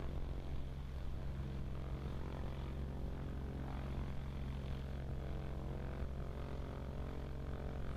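A STOL airplane descends toward the field at the Moses Lake airshow, its propeller engine a steady, fairly distant drone that holds level for the whole stretch.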